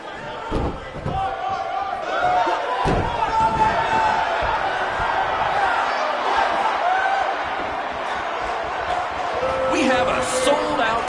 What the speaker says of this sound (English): Record-setting crowd here for BCW tonight.